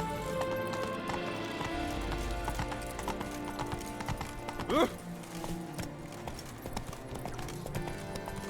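A horse gallops in The Witcher 3 with a quick, rhythmic clip-clop of hooves, close and moderately quiet, and a short neigh rises briefly in the middle amid soft background game sounds.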